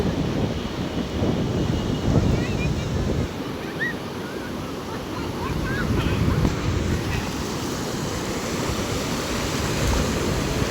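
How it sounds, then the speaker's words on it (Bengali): Big sea waves break and wash continuously along Cox's Bazar beach, a loud, steady roar of surf mixed with gusting wind on the microphone. "পানির বড় বড় ঢেউ আসলে পড়তেছে"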